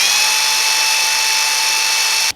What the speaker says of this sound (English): It was a drill driver.